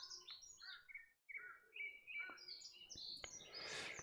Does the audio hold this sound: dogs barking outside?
no